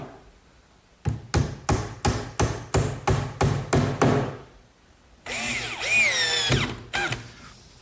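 Eight sharp, evenly spaced bursts of a drill biting into oak to pre-drill pilot holes for screws, followed by a longer whirring run with a squealing, pitch-shifting whine.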